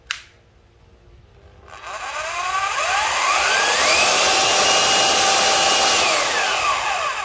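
After a sharp click, a 220V three-function drill in plain wood-drilling mode spins up from quiet to a steady, loud, high whine that holds evenly to the end, close by.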